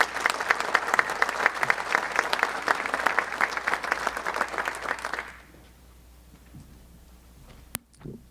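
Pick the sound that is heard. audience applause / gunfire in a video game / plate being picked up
audience applause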